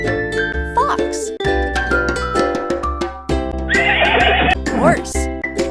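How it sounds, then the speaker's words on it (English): A horse neighs and whinnies loudly in a shrill, wavering call over a repeating tinkly children's music backing, with the whinny peaking near the middle and trailing off. "Horse."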